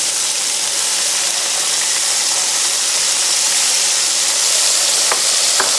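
A good handful of cherry tomatoes sizzling in a frying pan with oregano for spaghetti alla puttanesca, a steady loud hiss of frying throughout with a couple of sharp pops near the end.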